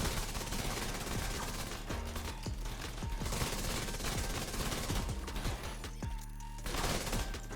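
Rapid, dense gunfire from many weapons in the shooter video game The Division 2, with automatic bursts and overlapping shots continuing steadily throughout at high loudness.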